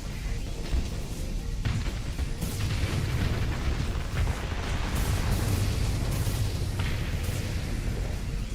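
Giga Cannons fire in the Starsector space combat game, a dense, continuous barrage of deep booming blasts with repeated sharp impacts layered over a sustained low rumble, loud and close for the whole stretch.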